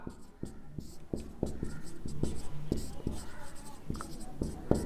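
Chalk or marker writing on a board during a maths lesson, with regular sharp taps and scratchy strokes in a quick rhythm, close and clear, while a soft voice speaks underneath.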